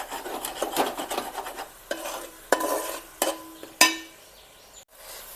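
Onion paste for tomato soup sizzles in a pan while a spoon scrapes and stirs it, giving quick rasping strokes at first and then a few separate, sharper scrapes, close up with no voices.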